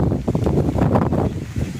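Strong wind gusting in heavy rain, pushing against an umbrella, a loud, continuous buffeting roar with rising and falling gusts close to the microphone.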